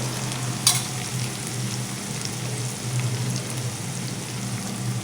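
Cauliflower and potato are sautéed with turmeric and spices in a pan on low heat, a steady close sizzle broken by one sharp clink of a utensil near the start.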